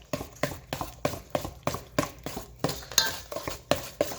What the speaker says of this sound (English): Mixing this until it's nice and smooth.